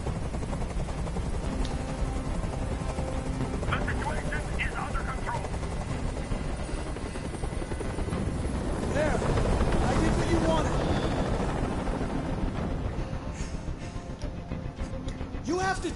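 A helicopter in a video game drones steadily throughout, loud and continuous, with game voices and bursts of other sounds over it.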